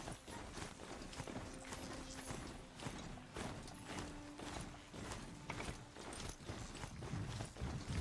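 Horse galloping in the video game Horizon Zero Dawn, a steady quick run of hoofbeats with mechanical clanking layered over game ambience, fairly close and moderately loud, with no talk over it.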